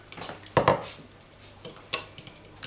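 A utensil stirs melted butter in a bowl, giving a few soft clinks and scrapes against the dish, with two louder knocks near the start and lighter taps afterward.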